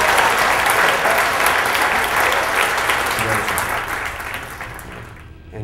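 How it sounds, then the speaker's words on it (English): An audience claps loudly for a volunteer coming on stage at a corporate entertainment show, a dense, sustained round of applause that gradually fades out toward the end. "Give her a round of applause for coming up here"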